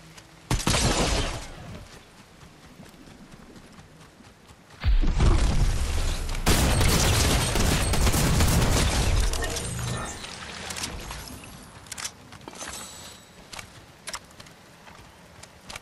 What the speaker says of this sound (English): he's just over here shooting shit